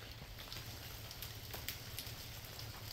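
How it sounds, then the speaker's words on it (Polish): Light rain begins to patter on an outdoor surface beside railway tracks near an abandoned gold mine, a steady soft hiss of drops with a few faint ticks, no voices. "Deszcz właśnie zaczyna kropić."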